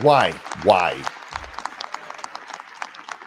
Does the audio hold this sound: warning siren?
no